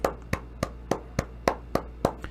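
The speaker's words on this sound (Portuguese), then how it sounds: "Podemos aplaudir o Senhor?" Church congregation clapping in a slow, even rhythm, about eight sharp claps spaced roughly a third of a second apart, fairly faint over a low background hum.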